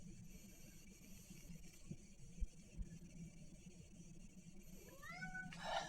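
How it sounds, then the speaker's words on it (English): A house cat meows near the end, a short rising cry that follows several seconds of quiet room tone with a few soft bumps, moderately close. "My cat is meowing."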